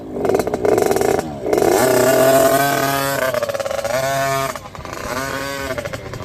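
Motorcycle fitted with a swapped SYX motor revs loudly and close, the engine note rising and falling through several throttle blips over about six seconds, with no talk.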